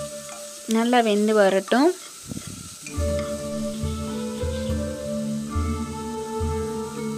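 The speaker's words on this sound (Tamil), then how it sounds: "நல்லா கிளறி விட்டுக்க போகிறேன் நான்." Aachi biryani masala with mutton stirred in a pot, a low steady sizzle under a spoon's scraping, while someone speaks briefly early on.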